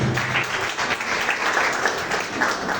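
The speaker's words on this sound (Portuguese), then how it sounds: "E a salva de palmas que louvamos" Applause fills a church service, a dense steady patter of many hands clapping at an even level throughout, with no voices standing out.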